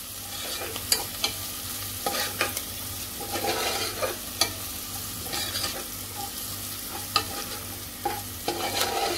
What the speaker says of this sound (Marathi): आता याच्यामध्ये आपण कढीपत्ता घालायचा आहे आणि हिंग घालायचं आहे फोडणीमध्ये